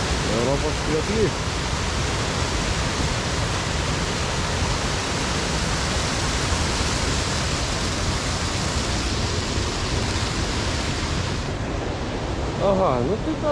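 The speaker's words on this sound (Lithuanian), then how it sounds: "plačiausias Europos krioklys." Kuldīga waterfall in Latvia, the widest waterfall in Europe, gives a loud, steady broadband rush of falling water that fills the whole scene, with brief voices faintly heard under it.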